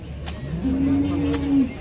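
A single low, sustained cow moo lasting about a second, fairly close, over faint background noise.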